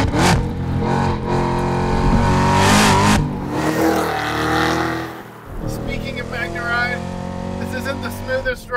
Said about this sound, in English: You don't need to go to redline because it is a supercharger.